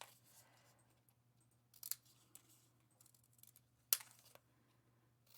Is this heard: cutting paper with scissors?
yes